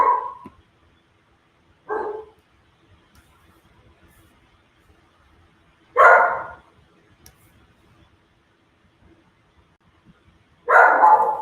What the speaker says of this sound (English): I have no idea what my dog is barking at.